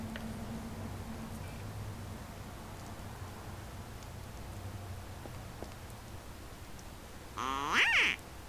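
Ducks quack in a short, fairly loud burst near the end, over a steady low background hum.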